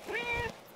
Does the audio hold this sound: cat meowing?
yes